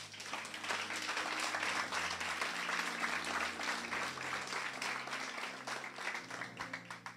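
A church congregation applauds during a sermon on worldly music, a dense, even wash of clapping sustained for about seven seconds, heard from a moderate distance.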